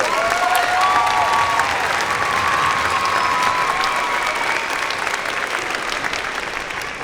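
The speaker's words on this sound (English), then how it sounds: "And sure, you can applaud for Sarah." A school district band festival audience applauds an alto saxophone soloist, loud sustained clapping with a little crowd noise that fades slightly toward the end.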